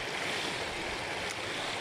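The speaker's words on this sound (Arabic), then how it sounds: "المايه اللي نازلة دي نازلة بقوة ضغط عالية" Water pouring down under high pressure, a steady dense broadband rush like heavy surf, loud and continuous with no talk.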